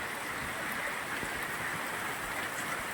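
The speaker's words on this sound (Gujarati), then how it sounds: "એટલો વરસાદ ચાલુ છે કે હજી બંધ જ નથી થયો" Steady, faint hiss of rain falling, an even wash of patter with no voices.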